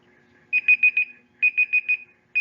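Electronic countdown timer for a sewing-tools quiz, sounding clear, high-pitched beeps in quick groups of four with short pauses between groups, with no one talking.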